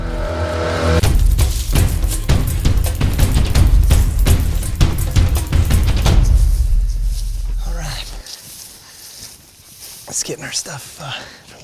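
A truck engine starts up and idles with a loud, rough roar close by for several seconds before it cuts off, leaving quieter rustling, during a whitetail hunting trip in Alberta.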